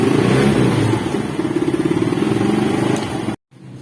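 A Mio scooter engine with a battery that drains quickly runs close and loud with a rapid, pulsing putter that revs briefly, then cuts off abruptly near the end.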